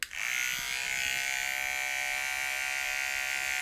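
Electric hair clippers with no guard, lever open, buzz with a steady high-pitched whine while trimming a beard, close and constant after a brief switch-on.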